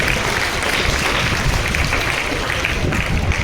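An audience claps at a prize ceremony, a dense, steady wash of applause filling the short stretch without pause.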